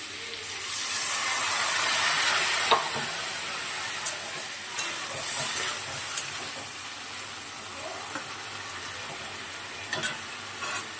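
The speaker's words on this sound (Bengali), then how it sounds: "আলুটা ভাজা হয়ে গেছে। এবার গরম জল করে রেখেছিলাম, ওটা দিয়ে দিচ্ছি।" Hot water poured into a pan of frying potatoes for a spicy potato curry, producing a steady, loud broadband sizzle and hiss of steam with a few sharp crackles, close up and without talk.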